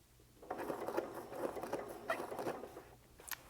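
A Janome sewing machine stitching appliqué on a mixed media project, giving a quick run of soft, rhythmic needle taps in close succession before easing off, heard close and fairly quiet.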